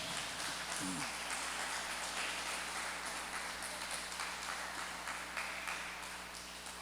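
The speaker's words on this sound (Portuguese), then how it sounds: "Você pode aplaudir Jesus, que Ele merece." A church congregation applauds, with steady dense clapping filling the room at moderate loudness and a voice briefly heard under it.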